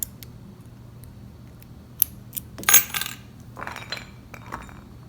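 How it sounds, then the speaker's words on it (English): Keys and metal parts of a Master ProSeries 6121 padlock click and clink up close, a few sharp taps followed by a busier burst of rattling metal, with no talking. "get the keys and lock it back up"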